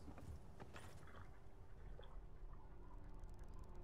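Horse hooves clip-clopping steadily while riding in Skyrim, a quiet continuous rhythmic trot under faint ambient background, with no talking.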